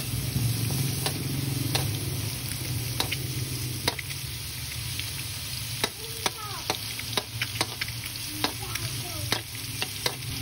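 Garlic frying in a pan after ginger, a steady sizzle with frequent spoon or spatula scrapes and clinks against the pan, fairly close, with no talking.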